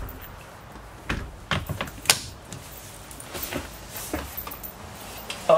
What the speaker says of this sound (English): Checking my emergency exit door window to make sure it properly works